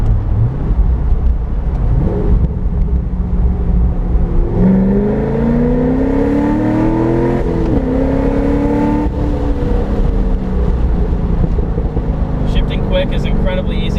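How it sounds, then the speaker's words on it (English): A C6 Corvette Z06 engine accelerates hard during a pull, its rising tone sweeping upward through the gears with brief dips at the shifts, loud and close, heard from inside the car with the windows down. "I'm going to roll the windows down for you guys so you can get a little taste of what it sounds like doing"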